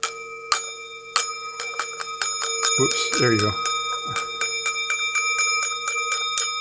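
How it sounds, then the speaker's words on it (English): Homemade bell struck on its side, ringing loud and clear with a rapid series of bright metallic strikes and sustained tones, while a person talks briefly partway through. "then it makes a real loud bell sound."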